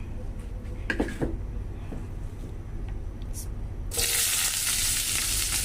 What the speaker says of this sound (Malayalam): അതിനകത്തോട്ട് നമുക്ക് അരിഞ്ഞു വെച്ചേക്കുന്ന സവാള ചേർത്ത് കൊടുക്കാം